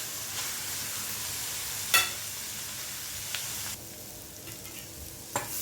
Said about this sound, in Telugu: చూశారు కదా, ఆనియన్స్ వేగుతున్నాయి.